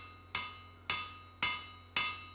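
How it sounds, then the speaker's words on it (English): A broad-faced hammer strikes a hot steel shears blank being forged, four sharp ringing blows at an even, unhurried pace, each decaying quickly, with no voices. "I'm using my nice broad-faced hammer in order to make sure that I don't get any hammer marks"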